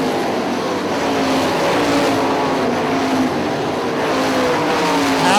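IRA sprint race cars roaring around Hartford Speedway Park, a dense, continuous high-pitched engine wail from several cars at once, loud and steady throughout.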